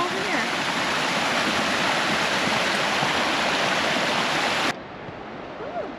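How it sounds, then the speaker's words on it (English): Waterfall rushing on a steep mountain hike near Valemount, BC: a loud, steady broadband roar of falling water that holds for nearly five seconds, then drops abruptly to a softer wash. "Even that first waterfall looks insane."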